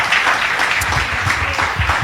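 Church congregation applauding loudly for Jesus during a sermon, a dense, even roar of clapping with rhythmic low thumps running underneath.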